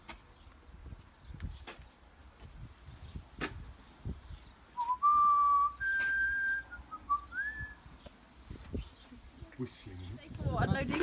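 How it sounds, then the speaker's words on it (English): A few clear whistled notes rising and falling, sustained tones with short pauses, over light background noise and scattered knocks. "Whistling."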